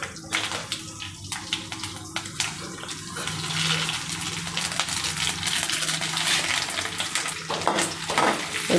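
Green chillies fry in a pan for a mango chutney, sizzling and crackling close by with sharp pops and stirring scrapes, and the hiss swells stronger midway through.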